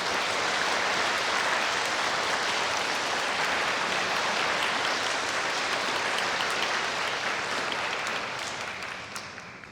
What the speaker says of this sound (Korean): 여러분 이분들한테 좀 뜨거운 박수 한번 보내주세요.